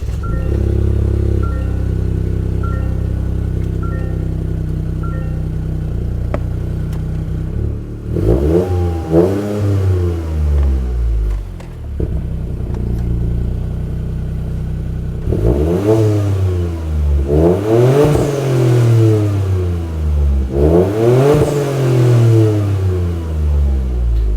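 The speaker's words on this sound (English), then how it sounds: "we're gonna do a quick little engine start" A Toyota GR Corolla fitted with an MST Performance V2 intake idles loudly, then the engine is revved in several sweeping pulls, with deep rising and falling engine tones and no talking.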